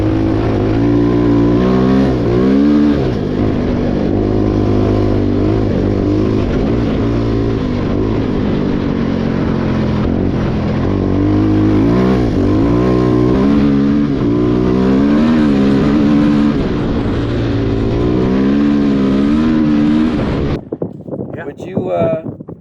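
A fuel-injected Kayo Storm 300 quad being ridden, its engine revving hard and close with rising and falling pitch as the throttle works, buzzing loudly for about twenty seconds under wind rush before cutting off near the end.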